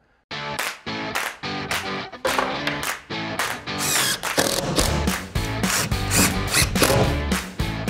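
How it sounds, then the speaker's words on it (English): Tin snips cutting PVC ceiling trim in a garage, a rapid series of crisp, loud crunching snips at a steady rhythm, close up with no voices. "Use tin snips to cut the trim for a clean,"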